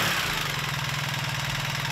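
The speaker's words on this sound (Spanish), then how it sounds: "Esta vez el traquetreo típico de los boxers al arrancar parece que se haya suavizado bastante más." A BMW R1300GS boxer motorcycle engine idling steadily after a keyless start, a smooth, even low rumble close by with no voices.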